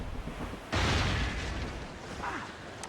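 A single heavy ship cannon blast in the Assassin's Creed Rogue naval battle, a sudden loud boom that rumbles and fades amid background battle noise.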